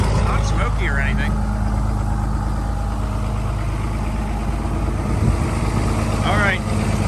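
A diesel engine idles steadily while warming up, a loud continuous low rumble held throughout, with brief talk over it at the start and near the end.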